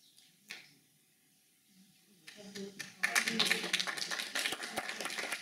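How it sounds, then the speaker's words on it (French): Conference audience applause builds from a few scattered claps into fuller clapping, at moderate distance, with a voice speaking faintly before it starts. "Les applaudissements me dépassent et me confondent."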